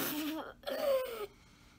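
A child clears the throat and coughs near the microphone, a short rasping burst followed by a rougher drawn-out cough, then quiet.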